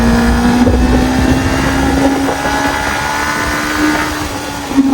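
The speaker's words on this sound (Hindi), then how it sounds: "चलिए क्यों ना अभी हम चलते हैं जरा, इसके हम थ्रोटल भी चेक कर लेते हैं और इसकी राइडिंग भी चेक कर लेते हैं" A Suzuki Inazuma 250cc motorcycle engine drones loudly under throttle, its pitch holding steady and creeping slightly upward, with wind rushing over the microphone throughout.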